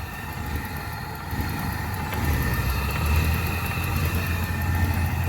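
A Toyota engine idles steadily after being topped up with oil, a continuous low rumble with a faint whine above it, close and unchanging for several seconds, with no voices.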